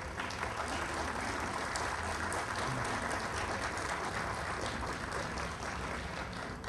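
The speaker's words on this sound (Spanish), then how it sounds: "Les pido un aplauso para el Consejo" Faint, continuous applause from an assembled crowd honoring a municipal council after an ordinance passed unanimously, a steady even wash of many hands heard at some distance.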